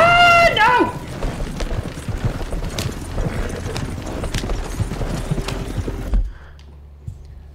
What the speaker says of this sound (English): Magic Buffy, my horse is following, of course.